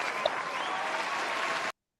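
A crowd applause sound effect plays as a steady, dense wash of clapping for under two seconds, then cuts off abruptly to silence.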